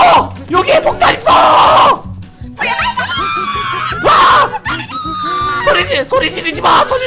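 Loud, frantic screaming and yelling from several people in a family role-play game in Minecraft about an unexploded bomb, with panicked shouting bursts under dense music and noise throughout.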